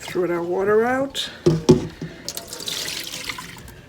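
A voice speaks, then a splash as used washing water from goat meat is tipped out, followed by a rushing, trickling pour that fades into drips.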